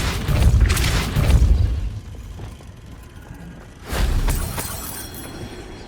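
A repelling force spell striking in the video game Hogwarts Legacy: two heavy booming impacts a few seconds apart, each a dense, loud crash with debris-like rumble, separated by quieter ambience.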